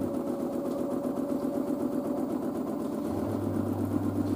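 An LG DirectDrive F1496AD 6-Motion washing machine spinning at high RPM gives a steady, close mechanical whir and hum with a constant tone, then a lower drone joins near the end. No speech.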